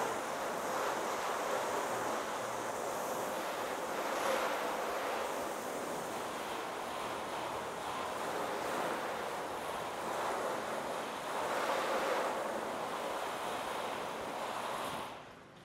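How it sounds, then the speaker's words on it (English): Steady broadband hiss of hose water rinsing a ceramic-coated car surface, a continuous spray with slight swells in intensity, running alone without talk until it cuts off at the end. "Rinse this off."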